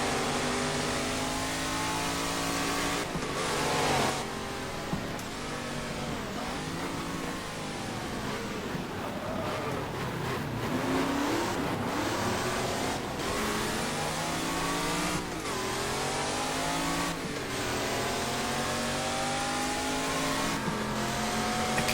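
A race car engine in the GT Legends driving game roars steadily, repeatedly climbing in pitch and cutting back at gear shifts, loud and continuous with no voices over it.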